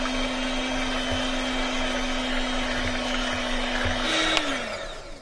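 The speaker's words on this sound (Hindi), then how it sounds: "मैं इलेक्ट्रॉनिक बीटर का इस्तेमाल करूँ, इससे जल्दी से व्हिप होके आ जाएगा" An electric beater whipping cream and sugar runs as a steady, close motor whine with a buzzing drone, then shifts pitch and rattles briefly near the end.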